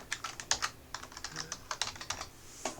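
Someone types on a computer keyboard, a quick irregular run of sharp clicks and key taps at close range, with no voices.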